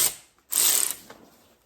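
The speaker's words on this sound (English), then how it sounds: "I'll go around in with the ratchet and really crank them down and tighten them up." A hand ratchet cranks down the hub bolts on an Infiniti Q50 wheel during a DIY wheel bearing job, giving two short, close bursts of crisp clicking with a brief pause between them.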